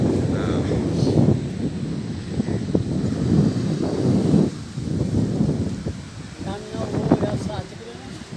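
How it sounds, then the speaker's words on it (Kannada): Strong, cool wind buffets a boat near a lighthouse on the Maharashtra coast, a steady broadband roar that swells and eases in gusts, with faint voices toward the end. "ತುಂಬ ಅದ್ಭುತವಾದಂಥ ಗಾಳಿ ಬಂದು ಬಡಿತಾ ಇದೆ"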